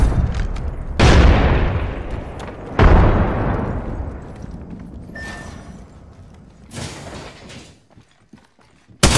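Frag grenade explosions in Apex Legends, several loud close booms with long decaying rumbles, separated by a few seconds, the last trailing into quiet.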